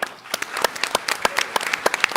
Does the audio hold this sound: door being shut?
no